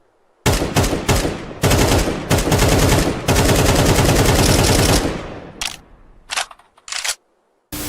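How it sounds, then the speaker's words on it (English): Loud, close AK-47 rifle fire from the video game Counter-Strike 2, several quick bursts and a long sustained automatic run of rapid shots, then a few short separate bursts trailing off. "AK sound is different now"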